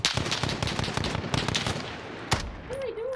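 Rapid gunfire in Call of Duty Modern Warfare, a burst of automatic shots followed by a single sharp report, loud and close, with faint background effects.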